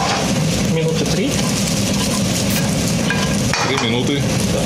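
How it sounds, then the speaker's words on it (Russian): Mushrooms fry in butter and vegetable oil in a pan in a bar kitchen, giving a loud, steady sizzle with occasional stirring and utensil clinks. "Сковородку. Начинаем жарить грибы."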